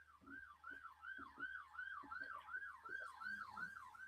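A siren wails in a steady, rapid rise-and-fall pattern, repeating about every half second for the whole stretch, fairly prominent over a low constant hum.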